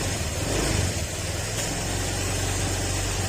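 A car engine warming up while it is checked for a fault with the stock part still fitted, giving a steady close idling hum and broadband rumble with no voices.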